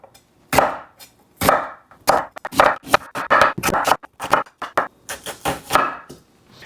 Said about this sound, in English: you kinda wanna angle your knife down towards the center of the onion as you go over the top